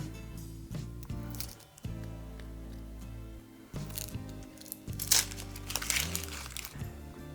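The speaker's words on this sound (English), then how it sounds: "If it says dice the onion, I'm going to just take the end piece off, peel it" An onion has its end trimmed off with a knife and is then peeled by hand. Its dry, papery skin gives close, crinkling and crackling rustles that come in bursts over low background tones.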